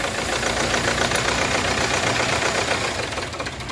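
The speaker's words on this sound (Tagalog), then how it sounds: "Talagang hindi siya tumutuloy, nanginginig yung makina." Kia Sorento engine running roughly and shaking, unable to hold its RPM; a loud, continuous rough mechanical rumble with uneven knocking pulses throughout, close up and without talk.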